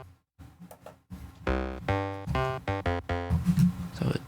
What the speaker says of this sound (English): This is an FM bass that I wanted it to sound like it was from a Sonic game